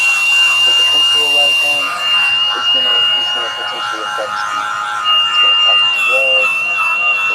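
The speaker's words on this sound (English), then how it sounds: "All right, so we're gonna grind this down" A Milwaukee 4.5-inch angle grinder whines at a high steady pitch as it strips paint off metal, the tone dipping and returning under load, with someone talking over it close by.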